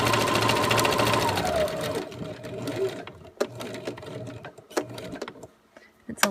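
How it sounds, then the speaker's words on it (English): A sewing machine stitching a small zigzag around a fabric leaf appliqué, a loud continuous whir at first, then short stop-start bursts as the work is turned, with someone talking throughout. "I have my machine set on a small zigzag stitch"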